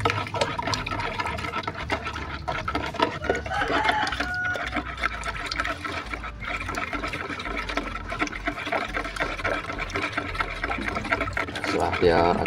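Steady sloshing and swirling of water as fertilizer is stirred into it in a container, continuous and close, with a person talking over it.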